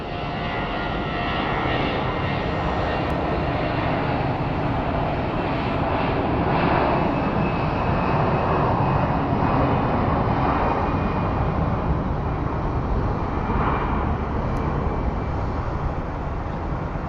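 An Airbus A320 airliner at Phoenix Sky Harbor airport gives a loud, continuous engine roar that holds steady throughout with no voices.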